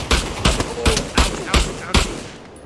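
Gunfire in the VR game DayZ: six loud, sharp shots fired at a steady, even pace, each a hard crack with a short decay, the last fading out.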